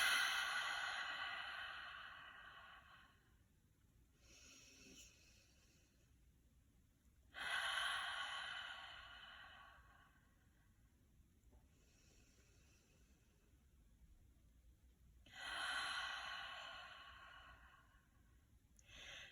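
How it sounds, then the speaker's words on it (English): Slow, full breaths during a guided meditation, heard close and soft as three long breathy exhalations spaced several seconds apart, with quiet stillness between them. "begin by just taking a couple nice full breaths"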